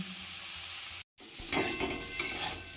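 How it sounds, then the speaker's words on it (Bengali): Mango pickle being stirred and mixed with dried red chilli and black salt, a close, soft scraping and stirring in a bowl, with a brief silent gap before louder mixing resumes. "এবারে আমের সাথে এটা ভালো করে মিশিয়ে নিচ্ছি"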